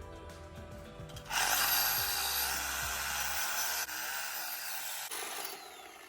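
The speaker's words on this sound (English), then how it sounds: "I'm going to try a Sawzall because I got a new blade in there" A Sawzall reciprocating saw with a new blade cuts metal on an exhaust manifold, a loud sustained rasping whine starting after a quiet second, with brief dips in intensity before it continues steadily.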